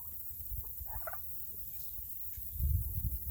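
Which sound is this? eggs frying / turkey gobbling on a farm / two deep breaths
turkey gobbling on a farm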